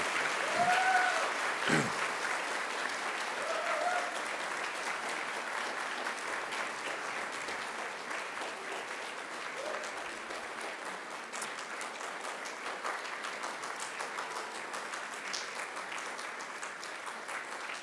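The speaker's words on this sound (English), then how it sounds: "I invite you to give them a mighty round of applause in thanks and appreciation" Graduates at a Macquarie University graduation ceremony give a long, steady round of applause to their family and friends, a broad wash of clapping from a large crowd in a big hall, fairly distant and even for the whole stretch.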